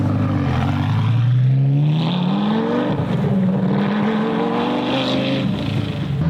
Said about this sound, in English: Now, we're going to let off the brake. Give it some gas.